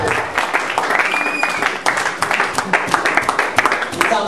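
A congregation at an evangelisation crusade claps and cheers, giving dense, loud, continuous applause from a large crowd, with a voice talking over it.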